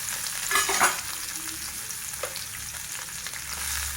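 Dried fish sizzling steadily in a little oil in a kadai, a close, continuous hiss with a couple of brief stirring clinks near the start.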